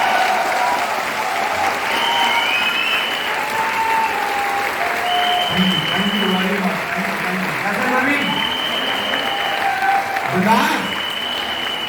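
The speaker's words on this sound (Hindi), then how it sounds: "जोरदार तालियां आप करेंगे।" A seated audience at a business seminar gives a sustained round of applause welcoming a speaker, steady clapping filling the room for the whole stretch while an amplified voice speaks over it.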